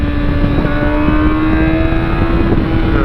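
A motorbike engine drones steadily at close range, a constant rumble with a whining tone and no pauses.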